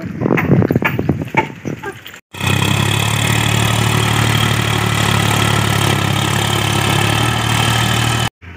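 A tractor engine idles loudly and steadily nearby with a deep chugging rumble, after a brief stretch of clattering noise at the start, during repairs to a broken wire in a village.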